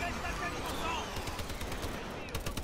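Rapid bursts of automatic gunfire from Call of Duty: Advanced Warfare, a dense continuous stream of shots with sharp cracks toward the end, over game background noise.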